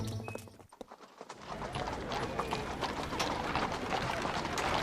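Horse hooves clip-clop in a steady, lively rhythm in a Lucky Luke cartoon, starting after a short quiet gap and continuing close and clear to the end.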